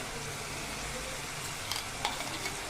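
Onion and tomato frying in a pan with ginger, chili and garlic paste for dal fry, a steady soft sizzle with a couple of brief stirring clinks, close and without talk.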